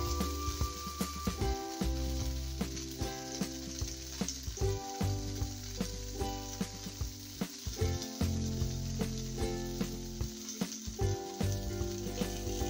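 Wheat flour dosa batter sizzles and crackles steadily in a hot pan, a close, continuous frying hiss broken by repeated soft scraping and stirring knocks from a utensil.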